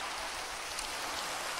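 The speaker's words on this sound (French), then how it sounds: "Ok, en fait, c'est parce qu'il pleut." Rain in the video game Minecraft makes a steady, even hiss of falling drops that fills the whole short stretch. No one talks over it.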